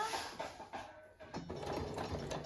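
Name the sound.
sewing machine stitching a topstitch seam on a jacket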